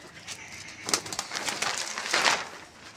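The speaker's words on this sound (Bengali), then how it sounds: "এই যে সব রয়েছে সব পায়রা" Pet pigeons in a loft give soft, low cooing calls in a few short bursts, close by, with a faint flutter of movement around them.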